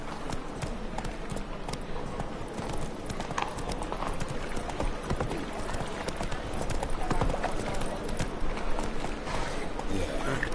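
Roach the horse gallops in Witcher 3, a fast, steady clip-clop of hooves running under constant game ambience while a voice speaks over it.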